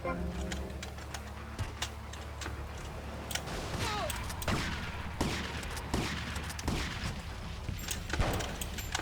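Gunshots in GTA Vice City Remastered ring out as scattered sharp cracks over a steady game background, with several close shots clustered in the middle and end and bird-like game ambience mixed in.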